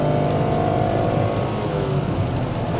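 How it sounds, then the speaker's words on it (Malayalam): A Nissan Magnite AMT compact SUV accelerates at full throttle, its engine tone climbing in pitch and then dropping as it shifts gears. The drone is steady and heard from close inside the cabin, with no talk. "ഞാൻ ഇവിടുന്ന് ഫുൾ ആക്സലറേറ്റർ കൊടുത്തേക്കാണ്. ഒരു ഗിയർ ഷിഫ്റ്റ് ചെയ്തു, അടുത്ത ഗിയർ ഷിഫ്റ്റ് ചെയ്തു."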